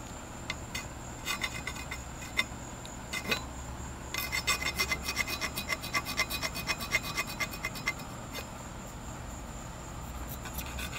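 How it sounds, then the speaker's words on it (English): A rasp files steadily across a wooden axe handle being shaped by hand, giving a dry rhythmic rasping that starts in short strokes, then runs as dense repeated scrapes, loud and close with no talk. "Just take my rasp."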